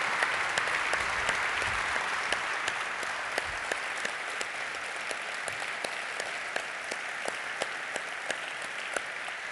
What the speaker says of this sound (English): I want you to have with him a big SolidWorks round of applause.